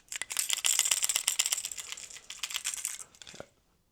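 A live mouse caught inside an OWLTRA indoor electric mouse trap, scrabbling and rattling against the plastic in rapid, irregular clicks and scratches, close and fairly loud, then stopping.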